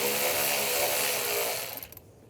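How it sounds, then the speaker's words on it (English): A power ratchet with an 8mm socket whirs loosening a worm clamp on a Ram 1500 airbox, a steady buzzing drive for under two seconds that stops with a few quick clicks. "Using a 8mm socket, loosen up this worm clamp."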